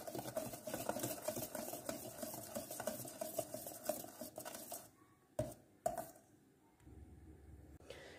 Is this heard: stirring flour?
yes